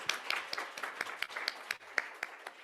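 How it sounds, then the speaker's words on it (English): Scattered, brief applause from a few people, with uneven claps ringing out for a couple of seconds. "we just give her a round of applause for staying awake"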